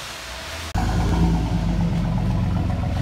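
2006 Chevy Silverado 1500 V6 with a Flowmaster Super 10 single exhaust, heard close as the engine kicks up abruptly into a steady, loud, deep rumble that holds without a break.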